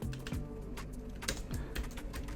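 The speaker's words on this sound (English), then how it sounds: "So I'm going to type in live" Rapid typing on a computer keyboard, close and clear, with a quick irregular run of key clicks over a faint background hum and no talking.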